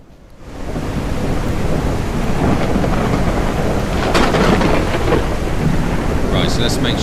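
Heavy steady rain and a rolling rumble of thunder from a storm in the survival video game Surroundead, rising in after a quiet start and staying loud and constant.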